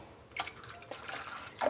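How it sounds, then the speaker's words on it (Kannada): Water is poured into a ginger juice mixture in bursts of splashing and trickling, starting after a quiet moment and ending in a louder gush, close and fairly faint. "ನೀರು ಹಾಕ್ಕೋತಾ ಇದ್ದೀನಿ."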